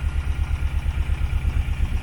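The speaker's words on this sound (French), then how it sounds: "Là, ce que je suis en train de faire, c'est de rincer mon moteur." An outboard boat motor runs at idle while being flushed with water after winter storage, giving a steady, pulsing low rumble that stays close and loud, with a constant hiss over it and no voices.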